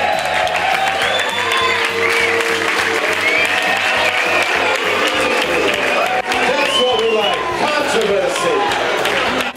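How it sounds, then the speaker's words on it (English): Large audience applauding and cheering for the Gumball 3000 rally winner at the closing ceremony, steady dense clapping with whoops held loud and constant throughout, voices mixed into the crowd noise. "So give him a cheer"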